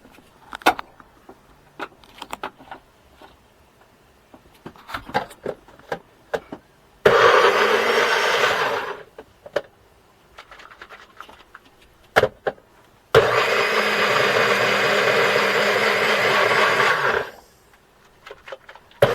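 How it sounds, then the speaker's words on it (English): A blender whirs through a Jamaican jerk chicken marinade in two bursts, about two and four seconds long, with quiet kitchen clatter and knocks between them. "Let's get that in the blender."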